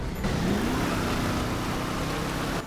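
Grand Theft Auto 5 Online Deluxe car engine rumbles steadily and loudly in a snowy setting, a dense low roar with a brief rising rev at the start.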